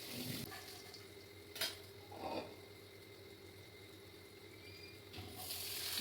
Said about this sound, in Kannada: ಸೋಸಿಟ್ಕೊಂಡಿರೋಂಥ ಹೆಸರು ಕಾಳನ್ನು ಕೂಡ ಸೇರಿಸ್ಕೊಂಡೆ ಮಿಕ್ಸ್ ಮಾಡಿಕೊಂಡೆ ಚೆನ್ನಾಗಿ